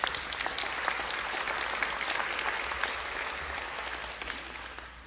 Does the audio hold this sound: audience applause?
yes